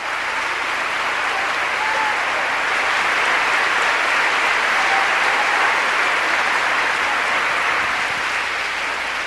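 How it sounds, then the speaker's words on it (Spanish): Loud, sustained applause from a church congregation at a sermon fills the whole stretch, steady and dense from start to finish with no talk over it. "Un aplauso fuerte."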